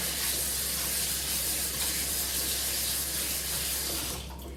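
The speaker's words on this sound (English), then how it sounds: "I'm gonna rinse my hands again." Tap water runs steadily into a sink while hands are rinsed, a continuous close hiss and splash that holds evenly before tapering off near the end.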